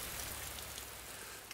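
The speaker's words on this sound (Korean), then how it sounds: "오전부터 조금씩 내리던 빗방울이 어느새 굵어졌습니다." Steady rain falls on outdoor surfaces at a rural work site, an even, dense patter of drops close by that fills the short stretch without any talk.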